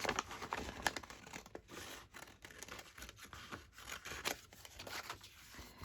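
Quiet, close scissor snips through regular copy paper during paper crafting, a string of short crisp cuts with soft rustling between them.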